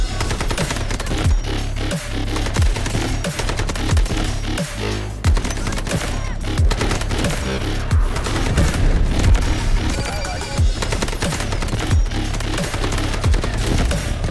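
AKM assault rifle fire in the Delta Force video game: rapid, loud bursts of automatic shots crack in a steady rhythm with short pauses between volleys, dense and close throughout.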